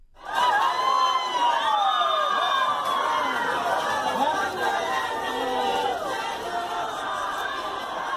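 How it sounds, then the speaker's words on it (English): Big crowds at the Suva markets in Fiji greet Meghan with loud chatter, cheering and excited whoops, including children's shouts, a continuous busy roar close around the listener. "Meghan then headed to the Suva markets without Harry, where big crowds were waiting to welcome her."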